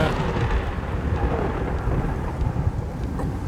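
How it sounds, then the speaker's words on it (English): Thunder sound effect in the space-flight video game Kerbal Space Program, a loud, continuous rolling rumble with hissing rain over it, close and sustained, no talk. "Some terrifying thunder sound effect."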